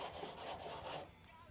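A steel chisel is rubbed back and forth across a flat sharpening stone, giving faint, close rasping strokes in a steady rhythm that trail off toward the end.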